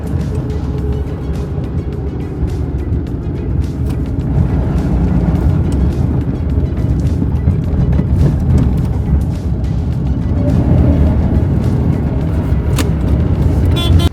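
Loud, continuous engine and road noise from a Tata Nano LX being driven, with the drone rising and swelling slightly as the car moves, with no talk.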